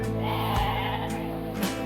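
Sheep bleating steadily in a continuous, wavering cry lasting nearly two seconds, close by, with a faint second bleat near the end.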